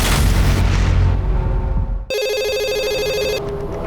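An electronic telephone ring chirps out in rapid repeating tones for over a second, following a heavy rumbling boom in a crime-drama setting.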